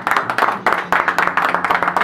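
Quick, rhythmic clapping from a small group in a radio studio during an interview broadcast, steady and close, with a faint low hum underneath.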